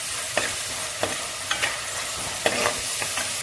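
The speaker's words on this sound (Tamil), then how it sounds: "ஆனியன் வந்து நல்லா கோல்டன் ப்ரௌனில் நல்லா ஃப்ரை ஆகிடுச்சு." Onions frying in a pan for chenna biryani, a steady soft sizzle broken by several scraping stirs of a spoon, close and fairly quiet.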